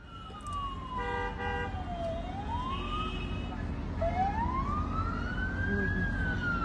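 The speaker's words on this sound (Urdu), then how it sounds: "یہ سائرن بج رہے ہیں۔" Sirens wail during an attack in Saudi Arabia, their pitch sweeping slowly down and back up in long rising and falling glides over a steady rumble of background noise, with faint voices underneath.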